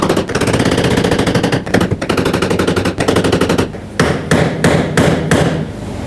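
Metal tapping as a fuel pump lock ring is driven into place on a 2011-2016 Ford F-350 6.2L V8: loud, close, rapid rattling strikes for a few seconds, then about five separate sharp blows, with no talking.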